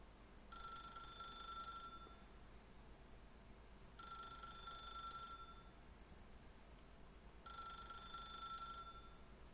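A telephone in the video game The Stanley Parable rings three times in evenly spaced bursts of about a second and a half each, with a bright electronic trill that is fairly quiet and heard alone.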